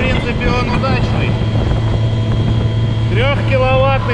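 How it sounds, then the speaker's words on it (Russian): A homemade 3 kW electric outboard motor runs at full power, fed by four batteries and pushing a 2.9 m boat onto the plane. The steady, loud drone is buffeted by wind, and a voice cuts in briefly near the end. "3-киловаттный мотор и 4 батарейки с AliExpress."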